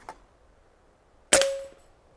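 A Diana Stormrider Tactical PCP air rifle fires, with a faint click followed by one sharp, close metallic clang as the pellet strikes a steel target, ringing briefly before fading into quiet.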